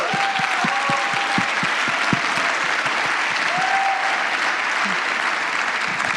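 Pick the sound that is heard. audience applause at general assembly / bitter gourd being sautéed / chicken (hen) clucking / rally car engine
audience applause at general assembly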